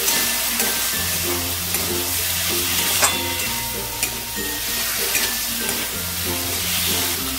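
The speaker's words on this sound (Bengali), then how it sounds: "দিয়ে এই চিনিটাকে ভালো করে মশলার সাথে মিশিয়ে নিচ্ছি।" Sugar being stirred into spice paste with tomato frying in a pan, a steady close sizzle with scraping stir strokes and faint music underneath.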